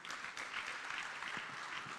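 Applause from a conference audience in a hall, a steady patter of many hands clapping at a moderate distance with no talk over it.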